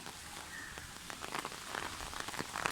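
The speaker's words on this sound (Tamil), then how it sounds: "இப்போ தூறல் விழுந்துக்கிட்டு இருக்கு" Light drizzle falls steadily in a broad soft hiss, with scattered small drop taps growing slightly denser toward the end; no voices, just the continuous patter of rain.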